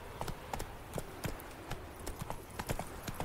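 A horse's hooves clip-clop at a steady trotting rhythm on the ground in The Witcher 3 video game, a run of sharp regular knocks heard close over faint ambient background.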